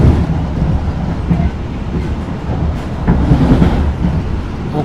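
Taksaka passenger train passes straight through Prupuk station without stopping, heard from inside with a heavy continuous rumble and rhythmic clickety-clack of wheels over rail joints, loud and close.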